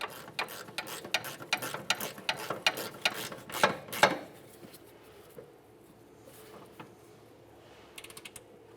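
A ratchet wrench tightens a rear upper control arm bolt on a 2003-2007 Honda Accord, giving about a dozen quick, sharp clicks over four seconds. Faint, sparse clicks follow after a short pause.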